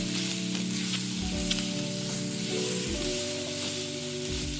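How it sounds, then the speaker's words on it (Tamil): Bread rolls deep-frying in hot oil until golden give off a steady, dense sizzle and crackle that runs close and unbroken throughout, with no voices. "நல்லா பொன்னிறமாக வார அளவுக்கு பொரிப்போம்"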